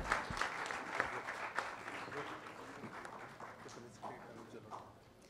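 An audience applauds to welcome a singer onto the stage at a music launch event, a steady wash of faint clapping from a crowd heard at a distance, with talk over it.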